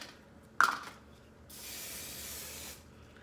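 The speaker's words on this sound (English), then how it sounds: "Load on the hairspray." Hairspray sprayed onto a vintage 1920s finger wave set, a sharp aerosol burst followed after a pause by a longer steady hiss of about a second, close and fairly quiet.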